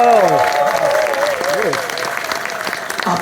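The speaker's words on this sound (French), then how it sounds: "Je profite pour vous demander d'applaudir l'association" Clapping from an audience at a Cameroonian community gathering, steady and fairly loud, beneath a voice speaking over it in the first moments.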